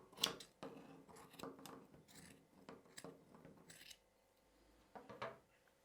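Scissors snip repeatedly as a sock is cut into strips down to the toe for a wreath. The crisp, close cuts come in an irregular series, with brief rustling between them.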